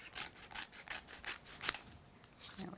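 Craft card being trimmed away, a run of short rhythmic cutting or rubbing strokes close by, fairly quiet, with no talk.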